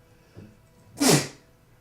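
One sharp, close sneeze bursts out abruptly after a brief intake of breath, then fades in a quiet room.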